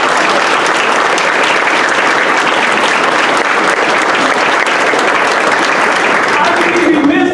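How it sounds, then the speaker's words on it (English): Audience applause for high school students at a school safety conversation event, a dense, steady clapping from a full room that stays loud and even throughout, with no talk over it. "Please give them another round of applause."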